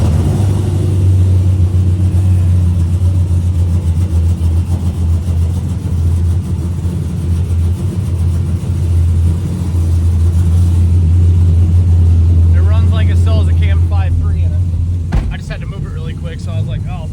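A truck with a 502 cubic inch LS solid roller engine runs steadily the whole time, a loud, deep, close rumble with a lumpy idle. Someone talks over it near the end.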